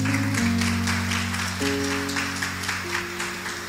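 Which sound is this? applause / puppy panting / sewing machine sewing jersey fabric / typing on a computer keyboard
applause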